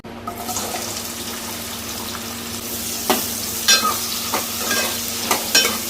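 Sliced onions frying in oil in a pan for gongura chicken curry, a steady sizzle with occasional sharper clatters and stirring knocks, close and fairly loud.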